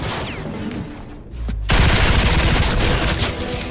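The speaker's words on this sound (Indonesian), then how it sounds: "langsung terjadilah baku tembak di antara mereka." Sustained gunfight in a police action film, a dense rolling barrage of rapid gunfire that surges loudly after a brief lull and keeps going without let-up.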